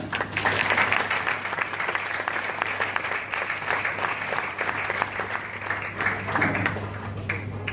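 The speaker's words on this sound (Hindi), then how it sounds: "जोरदार ताली" Loud, dense audience applause fills a function hall at an Amway event, a steady wash of many hands clapping that runs unbroken for several seconds with no talk over it.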